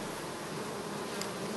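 Honeybees at a hive fitted with a pollen trap, a loud, dense, continuous buzzing swarm close by, with no voices.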